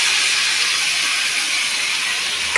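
Fried pointed gourd and potato pieces tipped into a hot spice paste for a vegetarian curry set off a loud, continuous, close-up sizzle that holds steady from start to finish with no talking.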